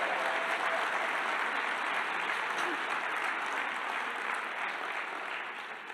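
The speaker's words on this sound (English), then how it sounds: "Give yourselves a round of applause for betting on yourself." An audience applauding, a dense, steady clapping from a large crowd that holds at an even level and eases off slightly at the end.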